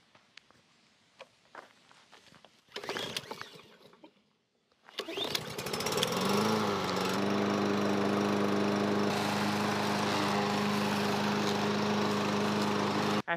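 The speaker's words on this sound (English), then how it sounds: "After 3 winters, this lawnmower still starts on the second pull" A gas lawn mower, stored through three winters, starts after a pull: a few faint footsteps and handling noises give way to the recoil pull and the engine catching, then a loud, steady running drone that holds to the end.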